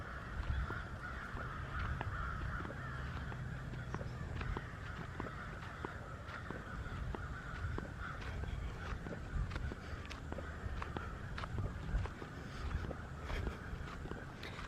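Loud, repeated cawing and calling from birds, probably crows, at an outdoor grave site and monument, with harsh calls scattered over a steady background and occasional footsteps.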